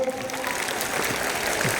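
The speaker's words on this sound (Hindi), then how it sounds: "जोरदार ताली से नेताजी का स्वागत हो" An audience at a Children's Day programme at St Joseph school, Puranpur, claps loudly and steadily in welcome, a dense, continuous patter of many hands.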